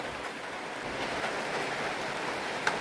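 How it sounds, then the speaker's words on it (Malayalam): Light rain falls outdoors near potted plants, a soft, even, steady hiss close by with one faint tap near the end and no voices. "എന്തായാലും മഴ പെയ്യാണ്."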